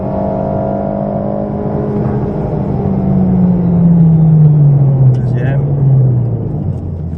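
A race car accelerates on the Dreux circuit during a track session, its engine a loud, close, sustained drone whose pitch slides and swells before easing near the end.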